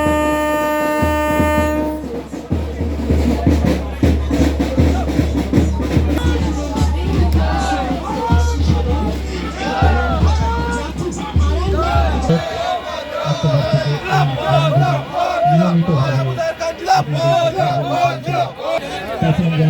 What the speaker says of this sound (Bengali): সেই ঐতিহাসিক মুহূর্তে সাক্ষী থাকতে হাজার হাজার মানুষ ভিড় জমানো রেলপথের দুপাশে